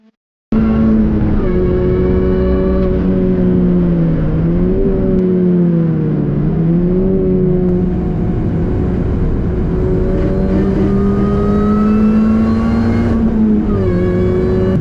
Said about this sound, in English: You can probably tell it's actually quite a busy session this, so quite a lot of cars coming past.